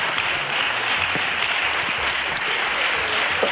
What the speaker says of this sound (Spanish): Un aplauso, es una creación suya.